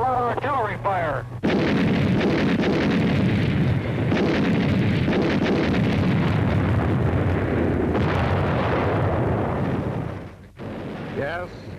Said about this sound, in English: We're getting a hell of a lot of artillery fire.